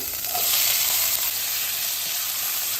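Chopped ivy gourd dropped into a sesame-seed tempering gives a loud, steady, close hiss of frying oil that holds evenly throughout, with no voices.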